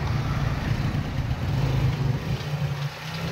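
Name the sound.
motorcycle engine running with carburetor trouble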